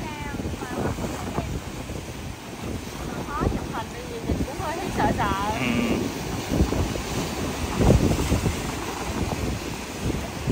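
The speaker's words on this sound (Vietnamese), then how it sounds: "Ngày này đi sóng hơi cao thiệt." Waves break against the rocky egg-stone shore of Binh Hung island near Cam Ranh on a day of fairly high surf, a steady rushing roar under constant wind buffeting the microphone, with faint voices mixed in.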